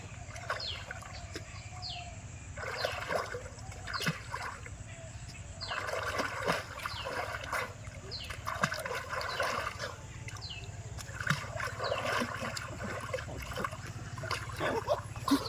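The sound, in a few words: child swimming and splashing in water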